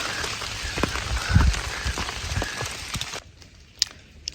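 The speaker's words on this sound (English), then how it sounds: "It's raining again" Rain falls steadily on a hiking trail along the Appalachian Trail, a dense close patter with a few heavier drops, then thins abruptly toward the end to scattered drips.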